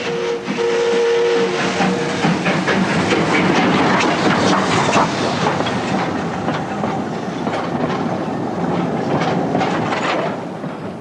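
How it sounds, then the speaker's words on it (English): An old steam train in Ecuador rumbles and clatters along steadily, with a brief steam whistle near the start, loud and close throughout. "But this old train, a marvel of 19th century ironmongery"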